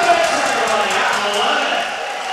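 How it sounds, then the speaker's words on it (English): A basketball crowd cheers after a made free throw in a Bethel versus Andrews game, a loud sustained roar with no distinct claps and voices within the noise. "The crowd going nuts as he knocked that free throw down."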